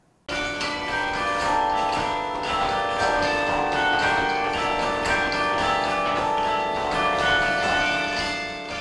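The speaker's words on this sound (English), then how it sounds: "The familiar sound of bells once again rings throughout Naperville" Carillon bells in Naperville ring out in a flowing melody, many tuned bells overlapping and sustaining, loud and resonant with a long ringing decay.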